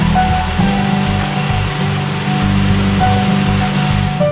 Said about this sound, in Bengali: এমনকি কৃত্রিম রেইন ফরেস্ট, যেখানে শোনা যায় মায়াবী বৃষ্টির শব্দ